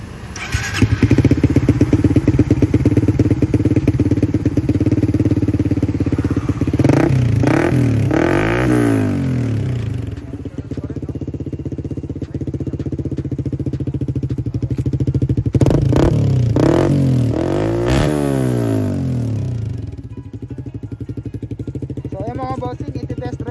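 A Suzuki GSX-R150 motorcycle fitted with a Villain Carbon Series full-system exhaust idles loudly up close, then is revved twice in rising and falling bursts, with a steady engine drone between them.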